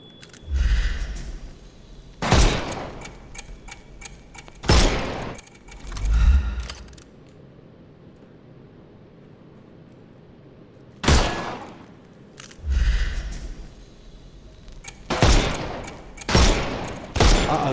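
Gunfire in the video game Sherlock Holmes Chapter One, loud sharp shots fired singly and in quick pairs with gaps of quiet between them, about nine bursts in all, some with metallic clinks trailing after.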